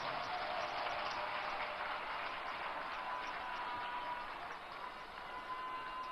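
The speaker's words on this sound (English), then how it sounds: "Ladies and gentlemen, let's give all of them a round of applause." Applause from a crowd at a political party manifesto launch for the NDC, a steady, muffled and fairly distant wash of clapping that continues evenly without speech.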